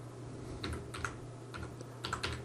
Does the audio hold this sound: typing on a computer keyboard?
yes